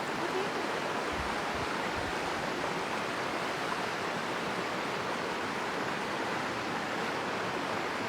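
A river flowing near a maleo bird breeding site in Saluki village, heard as a steady, dense broadband rush of water that stays loud and even throughout with no voices.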